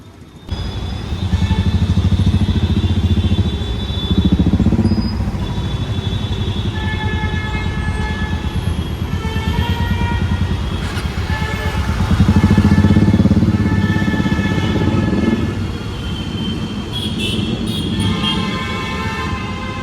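A motorcycle engine drones loudly and steadily throughout, swelling a few times as it rides, with a brief horn toot near the end.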